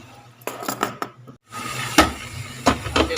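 Garlic stirred in a hot pan for a crab (kasag) dish: a metal utensil clanks and scrapes against the pan in irregular bursts over a soft background sizzle, close by.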